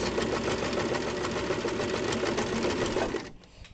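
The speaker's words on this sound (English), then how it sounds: "I'm going to stitch close to this edge so that it's all in place" A sewing machine stitches down a drawstring casing in a rapid, close, continuous mechanical whir of needle strokes lasting about three seconds, then stops abruptly. No one talks.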